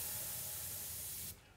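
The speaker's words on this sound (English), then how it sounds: "I've been spraying right now at 35 PSI." An airbrush sprays black paint at 35 PSI, giving a loud, close, continuous hiss that cuts off abruptly just before the end.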